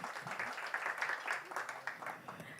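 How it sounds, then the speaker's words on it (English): A fairly faint, distant round of applause rises from an audience at a football cup launch event for award-winning performers, many hands clapping in a continuous ragged patter. "please give them another round of applause"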